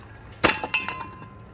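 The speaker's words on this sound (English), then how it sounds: "We're going to be smashing a fan." A hammer strikes a ceiling fan, giving one sharp crashing impact followed by several smaller rattling, clinking hits as pieces shift and break.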